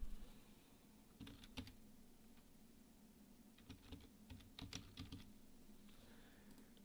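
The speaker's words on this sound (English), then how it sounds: "type in today's date" Someone types on a computer keyboard, entering a date: short clusters of crisp, quiet keystrokes separated by pauses, close and alone over a soft steady hum.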